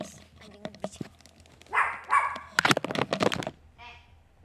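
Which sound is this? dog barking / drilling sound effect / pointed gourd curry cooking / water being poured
dog barking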